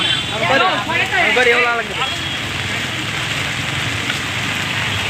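Steady heavy rain hisses on surfaces in Tirupathur district, Tamil Nadu, with voices talking over it at the start before the rain carries on alone.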